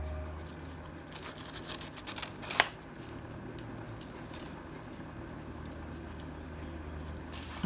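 Scissors cut out copy paper pockets for a junk journal, a steady run of soft, close snipping and paper rustling with one sharper crisp snip midway and another at the end.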